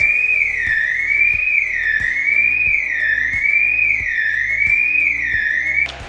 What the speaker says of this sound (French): Je vais attendre que la sirène passe.